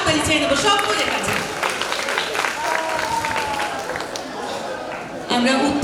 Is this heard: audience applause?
yes